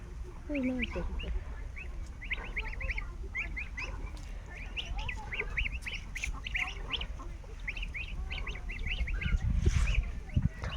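Many farm ducks quack continuously near a riverside yard, a dense overlapping chorus of short calls over low outdoor rumble, with faint voices in the background.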